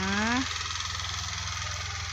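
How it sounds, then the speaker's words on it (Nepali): A tractor engine runs in a field with a low, steady drone close by. A short rising vocal tone sounds over it at the very start. "मेरो भाइहरु ट्र्याक्टर लाउँदैछ।"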